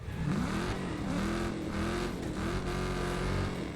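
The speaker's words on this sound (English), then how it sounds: "There is impressive and distinct audio for an aching engine as opposed to a healthy one" Car engine in the video game Wreckfest 2, loud and close, revving up and down in repeated rising and falling sweeps with a rough, strained tone, engine noise alone with no talk.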